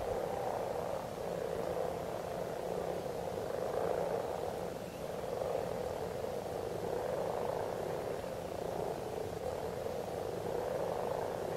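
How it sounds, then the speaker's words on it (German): Low, continuous purring croaks from over 50 common frogs at a spawning site in an upland bog, a dense distant chorus swelling and easing in soft waves. "machten Grasfrösche mit lautem Knurren auf sich aufmerksam"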